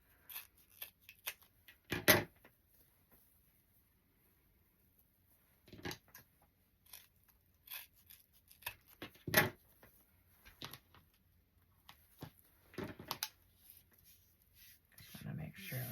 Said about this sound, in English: If you want, you can just cut each end.